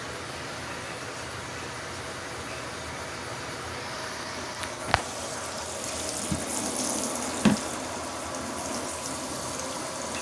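Water pours steadily into a portable washing machine as it fills, a continuous close rushing hiss with a couple of faint knocks, no speech.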